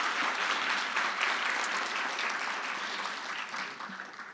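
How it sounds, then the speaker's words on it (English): Audience applause for a speaker at the 2019 BCI breast cancer conference, a steady, dense round of clapping from a crowd that holds for several seconds and then starts to thin near the end. "I hope everybody will join me in giving you a round of applause"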